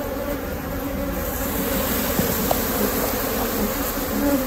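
Honeybees buzz continuously around an open beehive as it is split using supersedure queen cells, a dense steady hum of many insects nearby.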